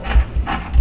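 Ratchet clicking as a bolt is tightened while fitting a striping kit to a Toro Recycler FWD mower, a few close, quick mechanical clicks in under a second.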